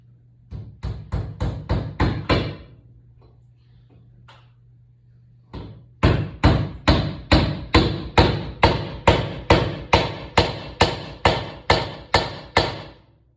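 Hammer blows driving roofing nails with washers to mount a shop heater in a garage, a quick run of about seven strikes, a pause, then a steady series of about fourteen loud, close, evenly spaced hits, with a faint hum beneath.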